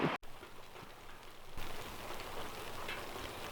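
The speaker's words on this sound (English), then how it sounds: "It's raining, which is wonderful." Steady rain patters on surfaces nearby, growing a little heavier partway through, with no voices.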